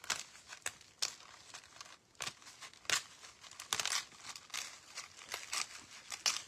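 Close crinkling and tearing of stiff cardstock by hand, in uneven bursts of sharp rips and crackles with short pauses between.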